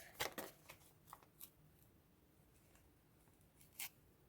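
A few quiet, crisp tearing and rustling bursts of paper packets being torn open, close up, separated by near silence.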